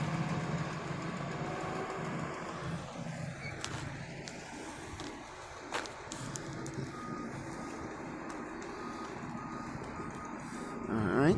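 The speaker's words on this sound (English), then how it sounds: "We have a Grapple truck pulling on in over here." A grapple truck at a county highway department yard pulls in nearby, its engine droning steadily with reversing beeps and a few sharp clanks rising over the rumble.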